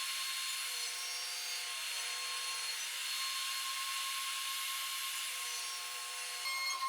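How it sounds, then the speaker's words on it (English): A table saw runs in a woodshop cutting scrap wood pieces to width, a steady high whine holding throughout with a slight change in pitch near the end. "take them to the table saw and cut them to width"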